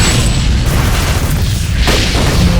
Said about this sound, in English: I'll drop my grenade on them.